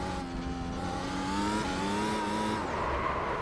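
An F1 car in a VR racing game at Interlagos spins and skids, its engine droning loudly while the tyres squeal and the pitch of the engine bends and slides as the car loses grip.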